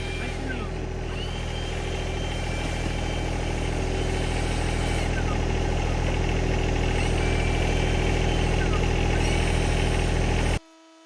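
A backpack leaf blower runs continuously at a steady, loud drone on a construction site, holding one even pitch throughout before cutting off abruptly at the end.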